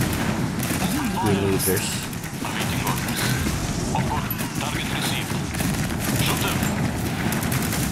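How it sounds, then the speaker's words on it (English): Rapid gunfire and bursts of weapon fire from the real-time strategy game Tempest Rising, with bullets arcing over a mountain, form a dense, continuous barrage while someone talks over the battle. "It's funny how the bullets can just arc over the mountain."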